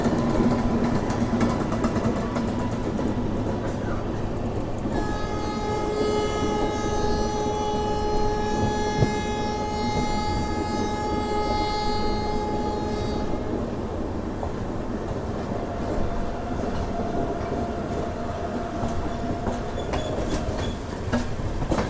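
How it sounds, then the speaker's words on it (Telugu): Coconut Express hauled by a WAP-7 electric locomotive, bound from Kakinada Port to Lingampalli, rolls by with loud continuous rail rumble and clickety-clack, steady tonal whines and squeals rising through the middle. "ఇక్కడ చూసుకుంటే మనకు వచ్చేసి బ్యూటిఫుల్ WIP-7 లోకోమోటివ్ మన కోకోనట్ ఎక్స్ప్రెస్ అయితే ఉంది."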